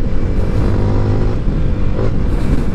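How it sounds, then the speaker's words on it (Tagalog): Loud, close engine of a 2021 Yamaha Sniper 155 motorcycle on a test ride, a dense buzzing drone that rises and surges with revving throughout. "Pero dumadamba ang motor na to"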